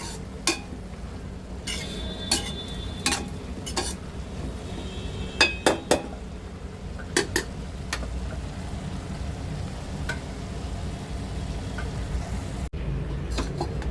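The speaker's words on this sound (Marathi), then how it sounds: "भांड्याला माझा हात लागला बघा." A hand bumping against a metal cooking pot in a home kitchen while cabbage cooks, giving a handful of sharp metallic knocks and clinks, a quick cluster standing out over steady low background noise.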